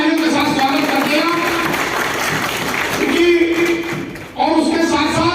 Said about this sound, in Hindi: एक बार जोरदार तालियों के साथ स्वागत कर दिया